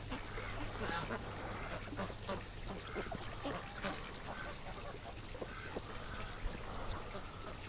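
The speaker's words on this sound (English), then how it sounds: "Filthy ducks." Wintering ducks in a pen with a lean-to quack in scattered nasal calls at moderate distance, one bathing in a tub and splashing about, with faint talk now and then.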